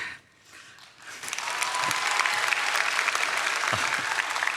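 An audience at a national middle and high school teachers' retreat breaks into applause that swells within a second and holds as dense, even clapping from a crowd filling the hall.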